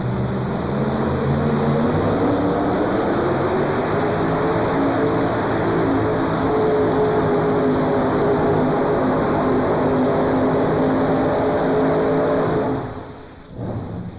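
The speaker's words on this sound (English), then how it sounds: "Here we go with our next tractor" A tractor at a farm machinery show, likely a pulling event, roars loudly and steadily with a rising engine drone that holds for about twelve seconds before cutting off abruptly near the end.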